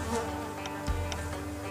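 Honey bees from a late swarm being moved out of a trap hive buzz softly and steadily, a faint close drone with a few brief passing hums and a soft thump.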